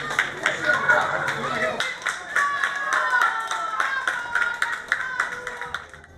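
Spectators clap steadily for runners at the Arkadi race in Crete, a continuous patter of many hands under a narrator speaking.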